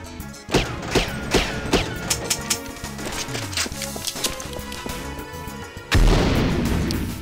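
In the PC game James Bond 007: Nightfire, a grenade goes off as one loud, sudden blast near the end. It follows a run of sharper booms and gunfire-like pops over game background sound.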